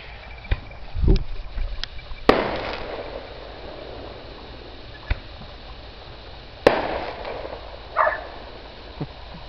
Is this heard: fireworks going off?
yes